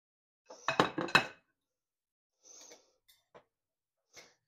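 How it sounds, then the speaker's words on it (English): A chuck roast goes into the bottom of a crock pot with a close cluster of clattering clinks and knocks, followed by a few sparse, quieter taps in a silent room. "I'm going to take my roast and put that in the bottom of the crock pot."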